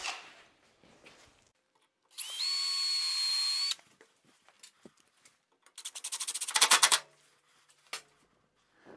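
Close cordless drill whirring as it drives a screw into the front fence of a table saw crosscut sled, one steady burst, clicks, then a second pulsing burst.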